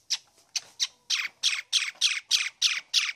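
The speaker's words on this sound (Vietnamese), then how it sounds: "Con sáo." A myna bird makes a rapid series of about ten harsh, raspy squawks in a steady rhythm, close and fairly quiet, with no other sound.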